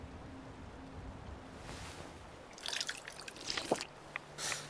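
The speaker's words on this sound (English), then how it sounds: "Oh, the stream's still here. It hasn't dried up completely." A faint trickling stream in the game Fallout 4, with soft drips and small splashes of flowing water over a low ambient background, growing busier toward the end.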